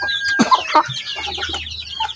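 Close, soft clucking from a hen, a quick run of short throaty notes with little background noise.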